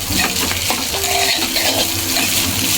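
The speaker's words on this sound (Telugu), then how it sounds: "ఇలా బాగా కలుపుతూ ఉండాలండి" Egg being stirred and crumbled in a pan for homemade fried rice, with loud continuous clinks and scrapes of a metal utensil against the pan and a light sizzle, close and without speech.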